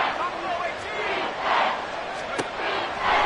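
A stadium crowd at a Seahawks football game roars in sustained, swelling waves, loud and dense, with a brief sharp spike partway through.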